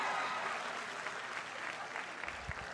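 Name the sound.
audience applause at a commencement speech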